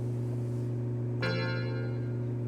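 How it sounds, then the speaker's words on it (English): A tubular bell patch on a Yamaha reface CS driven by a MIDI engine strikes once, a bright metallic chime ringing briefly over a steady low electronic hum. "There's your Diet Tubular Bell."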